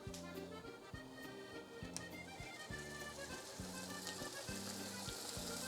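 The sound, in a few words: bacon sizzling in frying pan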